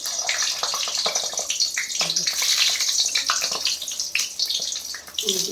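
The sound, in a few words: stuffed capsicums dropped into hot oil, sizzling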